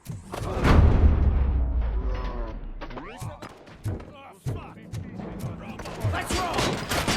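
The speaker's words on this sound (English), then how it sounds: "am I hearing gunshots?" Rapid bursts of gunfire and booming impacts in the video game RoboCop: Rogue City, mixed with voices talking and shouting over the action.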